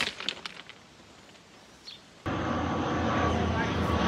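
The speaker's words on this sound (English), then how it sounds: "It's a plane. We thought it was a train, but it's a plane." Airplane flying overhead beside railway tracks at a stealth campsite, first faint and distant under some voices, then abruptly swelling into a loud, steady roar of engine noise.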